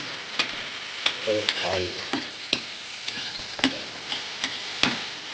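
Chopped onion stirred and frying in a pan for a simple breakfast fried rice with egg, with a steady sizzle under repeated sharp ticks of a utensil against the pan and a brief voice partway through.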